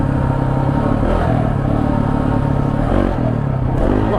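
KTM 690 motorcycle climbing an off-road dirt hill trail, its single-cylinder engine droning loud and steady up close with bumpy clatter from the rough ground.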